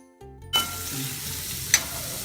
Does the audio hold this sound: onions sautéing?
yes